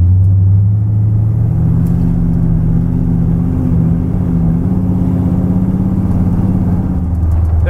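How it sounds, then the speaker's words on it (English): A 430 hp car engine drives along back roads at varying loads and RPMs, a steady, loud, low rumble heard from close by that holds without pause, with no talk. "we're gonna have to drive it around a little bit at varying loads and RPMs"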